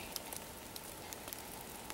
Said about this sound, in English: a steady rain.